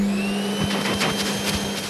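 A vacuum cleaner running with a steady, loud motor whine and airy rush, continuous for a couple of seconds with no voices.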